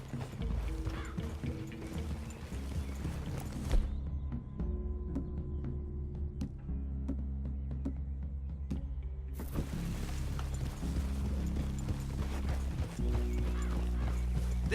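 Horse hooves clip-clopping steadily in Red Dead Redemption 2, a continuous rhythmic plodding over a low ambient bed with a faint whinny, with no talk over it.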